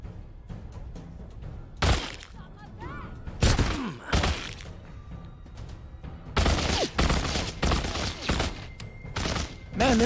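Repeated gunfire bursts from firearms in the zombie-survival VR game The Walking Dead: Saints and Sinners, loud close cracks in rapid clusters with impacts and thuds between them, over a busy game background.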